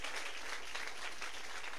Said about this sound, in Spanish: ¿Cuántos te dan aplauso a la palabra de papito en esta noche